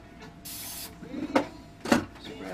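Cleaner sprayed onto engine parts of a 2002 Ford Mustang GT during an oil filter housing repair: a few short, close hissing spray bursts with faint clicks between them.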